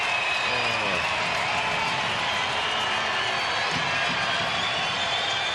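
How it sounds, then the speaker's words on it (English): A baseball stadium crowd of around 17,000 at an Angels versus Athletics afternoon game keeps up a continuous, broad roar with scattered cheers, steady and fairly loud throughout, with a voice talking briefly early on. "Crowd making some noise."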